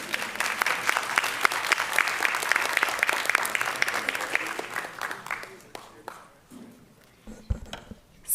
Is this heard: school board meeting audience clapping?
yes